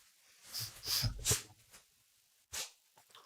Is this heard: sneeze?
yes